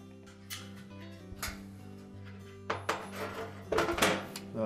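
A metal bottom panel lifted and pulled out of a Frigidaire oven gives a few light metallic clanks and rattles, with sharper bumps toward the end, close up and fairly quiet with no talk.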